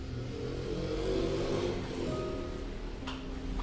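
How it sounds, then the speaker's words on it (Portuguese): Motorcycle engine droning steadily outside an abandoned hospital at night, a low continuous hum that swells slightly midway, heard from some distance with no talking. "Esse barulho da moto."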